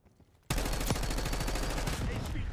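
Gunfire in the video game Black Ops 6, where after a brief quiet lead-in a dense burst of rapid automatic shots erupts and continues loud and sustained, with overlapping game sounds.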